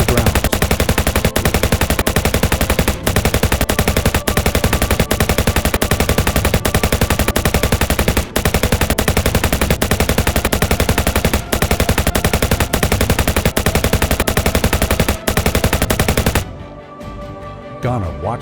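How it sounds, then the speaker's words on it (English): Sustained bursts of loud rapid gunfire from a firing squad on military grounds in Ghana crackle continuously for many seconds, then cut off abruptly into quiet. "gunshots echoed across the military grounds."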